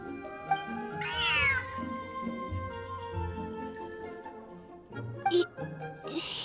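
A cat meows in Genshin Impact, a rising, wavering cry near the start over steady game music, followed by softer mewing and a few short clicks near the end.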